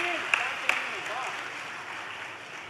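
A Hindi comedy poetry gathering gives a poet a soft, sustained round of clapping heard from a distance, with a couple of sharper claps early on and a voice mixed in.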